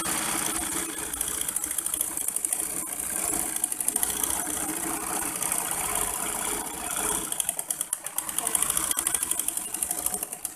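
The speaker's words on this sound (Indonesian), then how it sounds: "Langsung aja ini kita jahit." An electric sewing machine stitches fabric for a pleated-back fitted skirt, a steady close mechanical whir with rapid needle chatter running continuously, briefly easing before picking up again.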